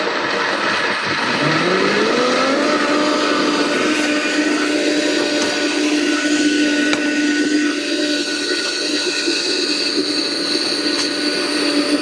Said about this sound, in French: je vais mixer mes châtaignes.